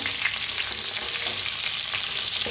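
Bitter gourd fries in oil and is turned over gently, a steady close sizzle with soft stirring scrapes and no talk.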